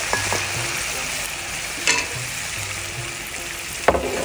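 Chicken legs, liver and skin fry with spices in a pan, giving a steady sizzle with a few scraping stirs that stand out briefly. No one speaks.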